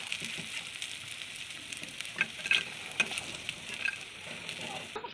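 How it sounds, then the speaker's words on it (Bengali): Paneer pakoras coated in besan batter fry in hot oil, a steady bubbling sizzle with scattered small pops and crackles, close and fairly quiet, no talking. "তো আমার পনিরের পকোড়া ভাজা হয়ে গেছে।"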